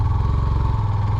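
A motorcycle engine droning steadily during a ride through Birishiri in Netrokona, running at a constant low rumble, close and continuous, with no speech.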